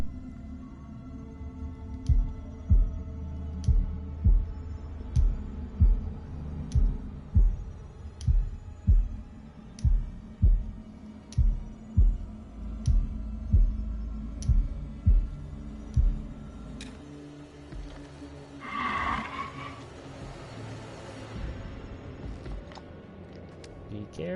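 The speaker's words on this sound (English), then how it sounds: "don't tell me I have to do a heartbeat thing again" Heartbeat in the video game House of Ashes, a steady series of deep low thumps pulsing at an even rhythm for about fifteen seconds before fading, with a brief voice near the end.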